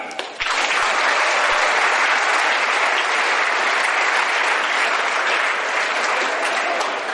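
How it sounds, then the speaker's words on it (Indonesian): Applause from a large audience at a university event begins abruptly and then holds as a dense, loud, even roar of clapping that barely fades across its whole length. "tepuk tangan."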